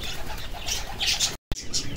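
A homing pigeon in a loft coos softly and close by, with low throaty notes over a busy background of other birds, and a brief dropout to silence partway through.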